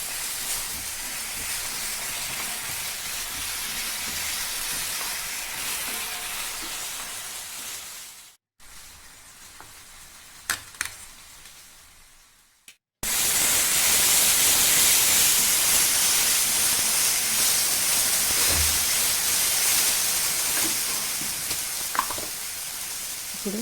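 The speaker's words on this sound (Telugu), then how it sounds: "ఇప్పుడు పచ్చిమిర్చి, అల్లం వెల్లుల్లి పేస్ట్ వేసుకోవాలి. ఇది పచ్చివాసన పోయే వరకు ఫ్రై చేసుకోవాలి." Green chilli and ginger garlic paste fry with onion in a pan, giving a loud, steady sizzle and hiss that drops away briefly to quieter stirring and tapping sounds, then surges back at full strength.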